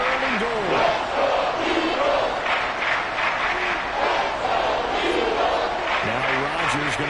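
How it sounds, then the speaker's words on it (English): Stadium crowd in a Madden football video game roaring steadily, with rising chants and cheers throughout, a commentator's voice talking over it. "This crowd doing all they can."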